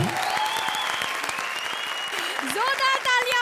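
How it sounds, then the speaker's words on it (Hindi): Enthusiastic studio audience applause at an Indian TV comedy show, dense and steady throughout with occasional whistles rising above the clapping. "जोरदार तालियां मंत्रा और विशाखा के लिए"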